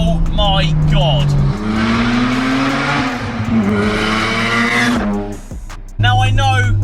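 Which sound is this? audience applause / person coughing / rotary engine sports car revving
rotary engine sports car revving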